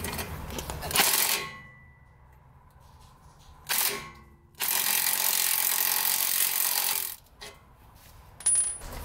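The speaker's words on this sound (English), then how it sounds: "Now I'm going to remove the clamp bolt from the knuckle so we can start wiggling our strut out." Impact wrench or power tool loosening a clamp bolt on a car's strut knuckle during a shock and strut replacement, heard as a short burst, another brief one, then a long sustained loud whir and a few final bursts, with no talking.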